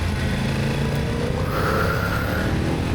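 Motorcycle engine running steadily during a ride as the rider brakes and swerves around a stopped obstacle in the road, a continuous close engine drone with wind noise and no talking.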